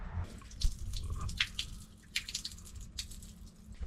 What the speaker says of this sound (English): I'm gonna let this water out the bottom